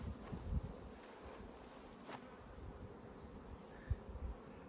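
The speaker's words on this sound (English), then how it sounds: "Bees are flying." Honey bees flying around a bee yard on a sunny afternoon, a soft steady insect drone spread through the background with a few brief louder passes close by.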